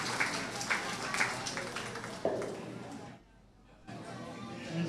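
Applause for exhibitors at a county fair sheep and goat show, a steady spread of hand claps with crowd chatter beneath, dropping briefly to near quiet before picking up again.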